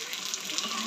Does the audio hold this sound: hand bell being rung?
no